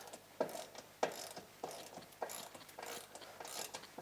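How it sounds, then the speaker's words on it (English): A countersunk self-tapping screw is driven into Polaris 900XP rocker armor, giving a quiet, close series of ratcheting clicks and grinding turns with a few sharper snaps over about four seconds. "Now I just install that countersunk self-tapping screw."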